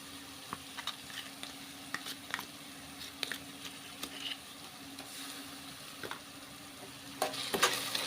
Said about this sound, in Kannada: ಶುಂಠಿ ಬೆಳ್ಳುಳ್ಳಿ ಪೇಸ್ಟಿಂದ ಹಸಿ ವಾಸನೆ ಹೋಗೋವರೆಗೂ ಫ್ರೈ ಮಾಡ್ಕೋಬೇಕು